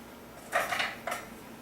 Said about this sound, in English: Get a nice big spoon and just sort of lay some of the cottage cheese over the noodle